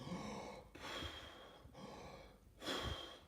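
Deep, rapid Wim Hof method breaths come up close, three strong inhale-exhale cycles rushing in and out of the nose and mouth, with no talking.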